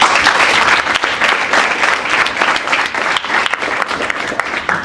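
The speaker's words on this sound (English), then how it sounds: "I would like to ask for a round of applause for her as well" Applause rises from the audience at a model UN closing ceremony, loud and close, a dense, even clapping that holds steady for several seconds.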